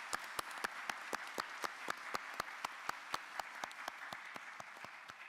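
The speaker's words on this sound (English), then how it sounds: "let's give them a round of applause." Steady, rhythmic clapping from a small group at a county board of commissioners meeting, evenly spaced claps continuing for several seconds at a moderate, fairly distant level.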